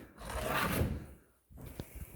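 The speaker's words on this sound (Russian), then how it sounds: "Эту дыру я закрою вот такой вот доской." A wooden board set down over a hole in the floor of a run-down abandoned village school near Chernobyl, giving a woody scraping rub and a soft knock, close and fairly quiet, with no talk.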